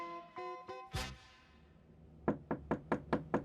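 Knocking on a door as a sound effect in a comedy podcast sketch: a quick rhythmic series of six or seven sharp, close raps after some faint earlier tones, with no talking over it.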